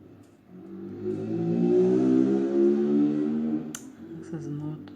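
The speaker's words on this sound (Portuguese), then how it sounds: "Essas motos sempre com barulho." Loud motorcycle engines roar by outside, swelling and fading over several seconds, with a brief sharp clatter near the end.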